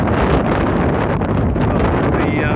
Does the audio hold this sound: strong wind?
yes